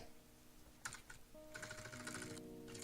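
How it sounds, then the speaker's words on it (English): Fast, frantic keyboard mashing during a OneShot speedrun comes in dense bursts of clattering keys, close and fairly quiet, with a brief pause before a longer flurry. "I'm going mad on my keyboard right now."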